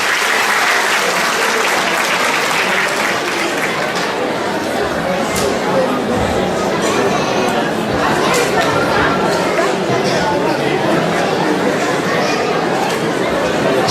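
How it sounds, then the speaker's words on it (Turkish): Sustained, loud audience applause at a religious foundation gathering, with crowd chatter mixed into the continuous clapping. "Bir alkış daha istəyim, alkış tez kəsdiniz"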